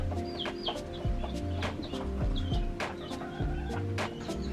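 Ornamental chickens imported from Turkey cluck repeatedly in a farm coop, several birds giving short overlapping calls in an uneven rhythm over a steady low hum.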